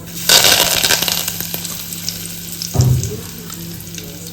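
Cumin, asafoetida, curry leaves and bay leaves drop into hot oil, setting off a sudden loud crackling sizzle. A second burst follows a few seconds later, and a steady frying hiss continues in between.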